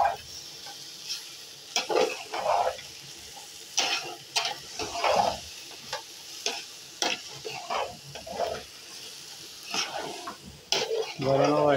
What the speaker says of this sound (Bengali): আমাদের রান্না হয়ে যাচ্ছে এখন ভুনা খিচুড়ি